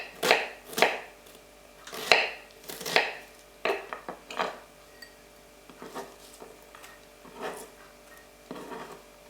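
A knife chops onions finely on a cutting board for a pork, beef mince and potato curry, landing as a string of sharp, close strikes in uneven bursts. The chopping is loud at first and then lighter and sparser.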